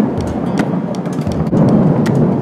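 Thunderstorm noise with heavy rain hiss and rumbling, crackling bursts, loud and constant across the whole stretch with no voices.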